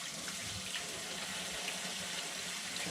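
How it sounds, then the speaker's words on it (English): A kitchen sink sprayer rinsing drained canned beans, giving a steady, even hiss of running water that continues unbroken throughout. "and then just use your sink sprayer"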